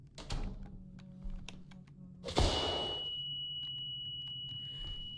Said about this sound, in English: oh lovely, a ringing noise